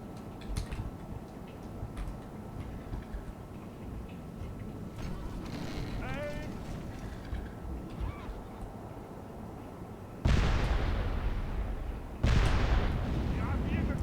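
Cannon fire from a medieval pike-and-shot battle in the video game Medieval 2: a low battlefield rumble, then two loud booming shots near the end at about ten and twelve seconds.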